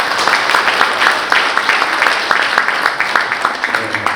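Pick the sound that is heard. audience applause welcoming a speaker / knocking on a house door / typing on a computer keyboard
audience applause welcoming a speaker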